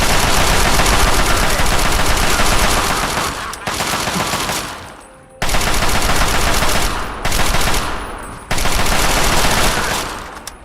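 Rapid automatic gunfire in Fallout 3 hammers at an enemy in long, loud bursts with brief gaps between volleys, harsh and continuous at close range.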